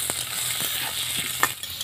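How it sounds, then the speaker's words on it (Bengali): Cut potatoes seasoned with a little salt and turmeric fry in a pan, giving a steady close-up sizzle with a few light clicks and scrapes as they are stirred. "আলুটা আমি ভালো করে ভেজে নেব।"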